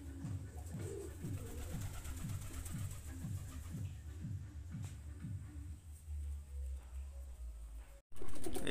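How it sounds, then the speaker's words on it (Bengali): Pigeons, including Lahori birds, coo at a pigeon market in Dhaka, their soft, low calls repeating in a steady rhythm close by, then trailing off toward the end. "কবুতর গুলা দেখতে অনেক ভালো লাগে।"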